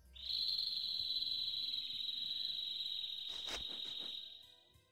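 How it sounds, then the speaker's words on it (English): A sustained high chirping call in a desert area of the Tales of Vesperia video game, steady and close for about four seconds, with a brief burst of rapid trills near the end before it fades. "A bird? In this desert? It sounds close."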